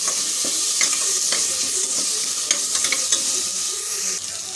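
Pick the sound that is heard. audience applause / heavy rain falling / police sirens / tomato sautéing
tomato sautéing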